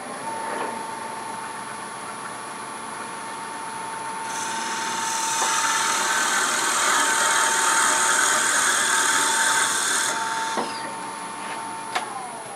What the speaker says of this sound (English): We're going to drill a hole appropriate for the dowel we're using, and then glue it in there.